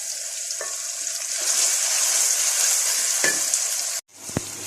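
Tomatoes frying and breaking down in a hot pan for mutton pulao, a loud continuous sizzle with occasional stirring scrapes, briefly cut off near the end and then resuming.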